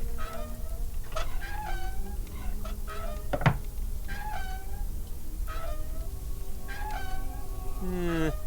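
A cartoon cat in the game Deponia Doomsday meows repeatedly, several short mewing calls spaced a second or so apart over a steady background ambience, with no talk.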